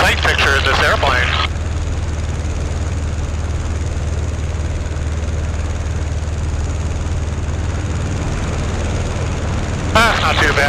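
A steady, loud engine drone from a Pietenpol light airplane in flight fills the open cockpit without a break. Brief bursts of talk come at the start and again at the end.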